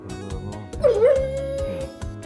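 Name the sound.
dog Džipo barking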